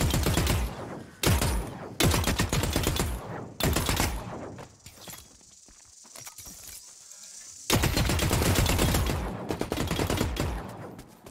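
Rapid bursts of blaster gunfire from a space shooter video game, loud and dense, coming in several volleys separated by short quieter gaps.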